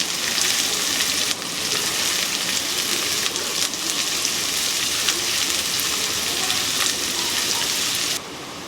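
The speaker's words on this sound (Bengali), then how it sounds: "পেঁয়াজটাকে আমি ভালোভাবে নেড়ে চেড়ে ভেজে নেব" Chopped onions fry in a pan while being stirred, giving a steady, dense sizzle at close range. Brief scraping stir sounds break through now and then, and the hiss continues throughout with no speech.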